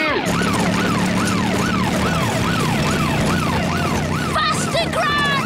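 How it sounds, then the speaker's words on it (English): A cartoon police car siren wails in a steady rising-and-falling cycle, loud and close over engine rumble during a chaotic race scene, ending in faster whoops. "And now there's a police car."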